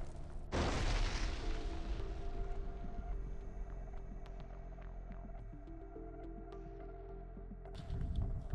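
A heavy explosion destroys an Air Force bunker in Bogatyr, a loud deep blast that hits suddenly and rumbles on, with lower crackling debris under it and a second swell of noise near the end.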